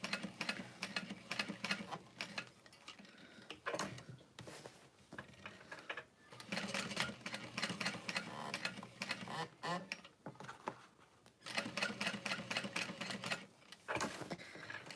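A sewing machine stitches a bag in rapid mechanical bursts with a walking foot fitted, back-stitching between runs, the clatter stopping and starting in short pauses.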